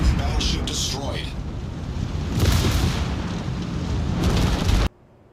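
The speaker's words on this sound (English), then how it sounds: "Enemy battleship destroyed." An enemy battleship is destroyed in a space video game, with a loud, sustained roar of blasts and rumbling debris that swells in bursts and cuts off abruptly to near silence.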